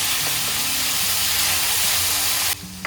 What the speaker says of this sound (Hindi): थोड़ा सा इसे भी भून लेंगे